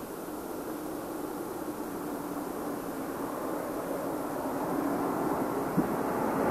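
Space Shuttle Discovery touches down on its main gear and rolls out along the Kennedy Space Center runway at night, a steady broad roar of rushing air and rolling wheels that builds slightly.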